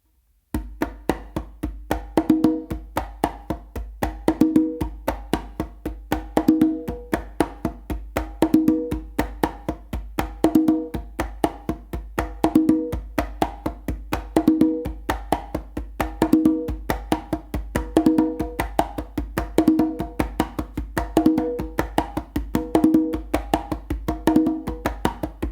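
A hand drum plays a steady warm-up pattern, a sharp closed slap from the dominant hand followed by ringing open tones from alternating hands, the cycle repeating evenly and clearly at close range with no voices.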